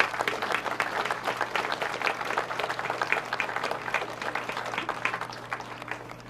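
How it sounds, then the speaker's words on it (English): A sustained round of applause from the audience at a commemorative event in Lowestoft, a thick, even crackle of many clapping hands that holds steady for about six seconds before starting to taper off. "they all deserve a very, very big round of applause"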